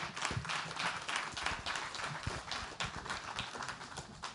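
Applause from the audience as panelists leave the stage at a July 2021 event on men committing to gender equality: dense, continuous clapping with a few sharper claps, heard from a distance and fairly faint.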